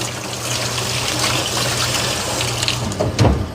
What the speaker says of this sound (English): Let me just rinse my hand off.